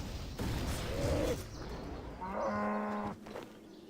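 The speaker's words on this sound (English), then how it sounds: "I need to kill a cow so I can get some raw beef real quick." A cow moos in a fantasy role-playing game with free-to-play quests, two low drawn-out lowing calls standing clear over a steady game background.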